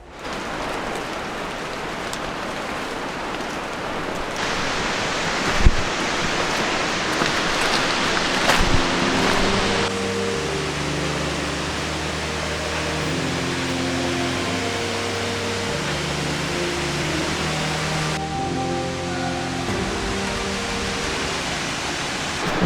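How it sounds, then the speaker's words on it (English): Steady rain falling through rainforest near a waterfall, a dense broadband hiss of rushing water and raindrops, with a low tonal hum entering partway through and lasting to the end. "The rainforest in the rain is a bit of a vibe, but we're getting close to the waterfall now"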